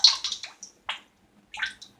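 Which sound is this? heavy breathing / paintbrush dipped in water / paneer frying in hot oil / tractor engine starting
paintbrush dipped in water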